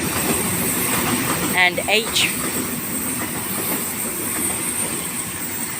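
Train passing through Sydenham Station in Sydney, a continuous loud rumble of rail cars with brief wheel squeals and clatter near the middle, and a voice speaking briefly over it.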